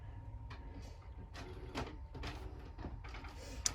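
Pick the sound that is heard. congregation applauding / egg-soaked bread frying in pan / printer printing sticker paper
printer printing sticker paper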